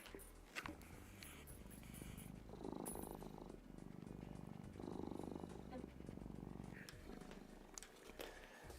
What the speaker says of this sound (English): And now he's just purring.